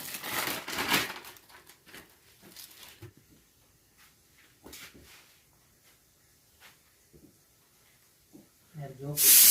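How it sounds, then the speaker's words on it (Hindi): A gas stove (chulha) at a Himalayan site, just connected to its pipe and lit, gives a short, loud burst of hiss at the very end, after scattered talk and faint handling noises. "पाइप लग गया और इसका उद्घाटन हो रहा है चूल्हे का। चालू हो गया वहाँ से।"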